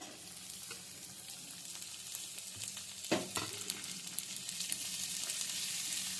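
Chopped onion and green chillies fry in oil with garlic and ginger. A quiet, even sizzle carries scattered light scrapes of a spoon and a sharper clatter midway.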